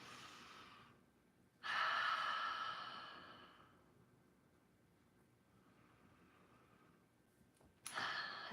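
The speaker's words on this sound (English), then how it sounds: "take a couple of really deep belly breaths" Slow, deep belly breathing during a relaxing stretch routine: a loud, close inhale that tapers into a long exhale, a quiet pause, then another strong breath starting, with no talking.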